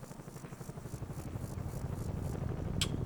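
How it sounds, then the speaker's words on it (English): A helicopter in Combat Mission: Black Sea makes a low, rhythmic rotor thump that pulses steadily and grows slightly louder. A brief sharp click sounds near the end. "The helicopter does some things. You hear it the whole turn."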